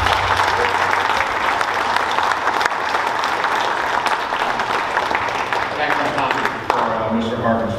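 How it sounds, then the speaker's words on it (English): A luncheon crowd of veterans' association members applauding, a thick continuous wash of clapping heard up close, fading slightly toward the end. "So I'd really like to just give you guys a round of applause for everything you do"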